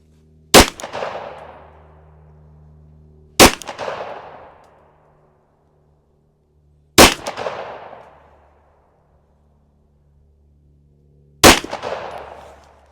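Four sharp pistol shots from a Glock 19, each a loud crack followed by a brief ringing clang off a steel target, spaced a few seconds apart with quiet gaps between and a steady low hum underneath.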